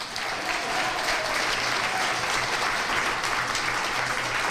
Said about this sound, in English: a great big applause for these crazy women, Brenda and Jeannie.